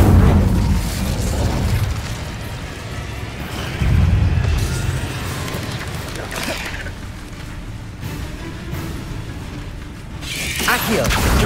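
Incendio fire spell cast in the Hogwarts Legacy video game: loud booming bursts of fiery impact, one at the start and another around four seconds in, amid a continuous rumbling, crackling game soundscape.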